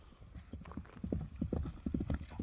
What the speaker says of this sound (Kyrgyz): Аттын баскандары, мынакей өзүңүздөр көрүп турасыздар.